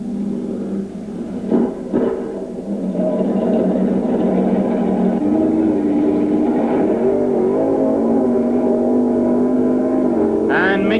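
Super Modified drag race cars, a Mustang and an A model Roadster, roar at a 1986 drag strip at Long Marston, a loud continuous engine drone heard from a distance that rises and shifts, with a brief commentator's voice early on.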